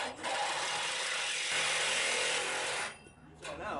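Angle iron being cut for the tailgate of a 1978 Ford F-150, a sustained harsh grinding, rasping scrape for about three seconds, loud and close, then stopping.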